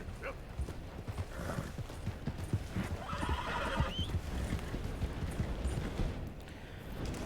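In Red Dead Redemption 2, a horse snorts and whinnies over a steady patter of hooves, with busy ambient game noise running throughout at a moderate level.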